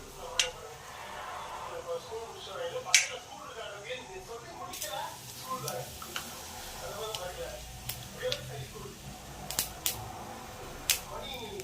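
Mustard seeds crackle and pop in hot coconut oil in a pan, a steady sputter of small sharp pops scattered throughout, some louder snaps standing out near the pan.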